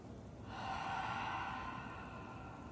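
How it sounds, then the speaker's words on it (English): A single deep breath drawn in through the nose during a yoga flow, soft and close, swelling after a brief pause and then slowly fading, with no talking. "And taking one more nice deep breath in"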